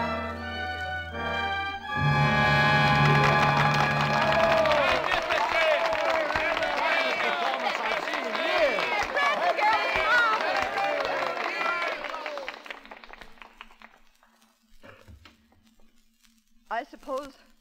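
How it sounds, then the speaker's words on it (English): A theatre audience applauds in a broad, sustained burst of clapping that follows a sustained musical chord and fades out after about twelve seconds before a few words of speech. "I know that I'm grateful for your applause"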